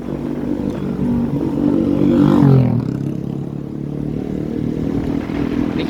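Motorcycle accelerating on a road ride from Lake Maninjau toward Padang in West Sumatra, a steady engine drone that rises in pitch as the throttle opens, then settles into a constant cruising hum, close and continuous.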